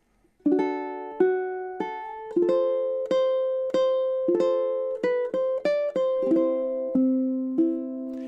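Ukulele plays bars 21 to 24 of Chopin's Nocturne Op. 9 No. 2, a steady run of about fifteen clear plucked notes and chords with ringing sustain, close and alone without any voice.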